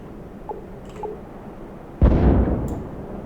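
A naval gun on a ship in Stormworks fires once at an amphibious assault carrier, a single heavy blast that booms and then rumbles away over a quiet background.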